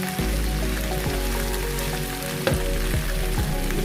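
Shrimp fries in a small pan, a steady close crackling sizzle with scattered pops and light stirring clinks, no voices.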